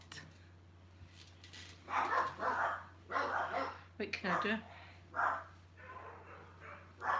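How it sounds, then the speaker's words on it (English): A dog barks at the back fence of a home, in short bursts of yapping heard at a distance while a person talks over them. "There's a dog at the back fence running a riot."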